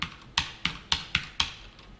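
Keys clack on a computer keyboard, six or seven crisp, evenly spaced strokes close to the microphone, with no voices.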